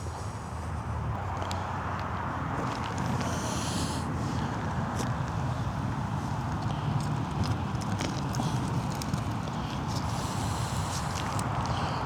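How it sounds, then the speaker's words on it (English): Donkeys at an allotment in October, shuffling and stepping with hooves clopping over a steady rough background, plus occasional snorts and scuffs close by. "let's grab a carrot and finish by saying hello to the donkeys"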